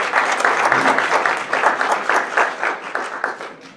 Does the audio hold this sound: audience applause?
yes